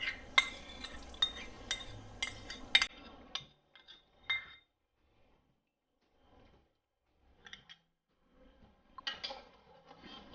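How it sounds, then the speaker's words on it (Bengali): A spoon stirs sugar into hot water in a bowl for a ghee-fried boondi sweet, giving a quick run of bright metal clinks against the bowl before fading to a few scattered light taps and scrapes. "এইভাবে আমি নাড়তে থাকবো যতক্ষণ পর্যন্ত চিনিটা না গুলছে"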